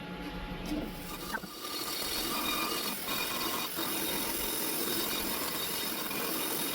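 A rotary cutter grinds steadily inside the ports of an RB26 cylinder head, a continuous close whirring and scraping that stays even for several seconds, with brief clicks near the start.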